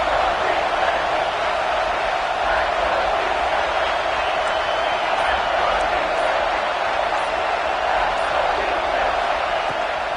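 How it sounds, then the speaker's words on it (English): Alabama home football crowd roaring on third down, a huge sustained wall of stadium noise that stays loud and steady with no break. "The Tide crowd rolling noise down onto Saban Field on third down."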